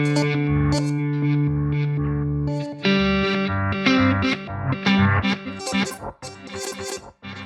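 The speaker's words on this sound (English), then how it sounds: "Sounds like you've got some reverse stuff going on." A Line 6 DL4 MkII delay pedal set to reverse, playing guitar notes that swell in backward with distorted, chorus-like shimmer. The tones come in a steady run of repeating, smeared phrases, loud and unaccompanied.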